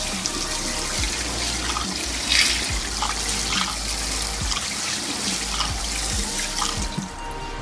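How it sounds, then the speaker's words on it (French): Cold water poured over a hot hookah part, a continuous splashing, trickling rush with small drips and clinks, close and steady throughout. "Balancez un peu d'eau froide dessus pour que ça refroidisse"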